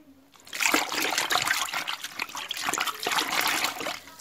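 A cloth being rinsed in water while cleaning rubber plant leaves, giving a steady trickling, splashing wash of liquid that runs for several seconds, close and fairly loud, with no talking.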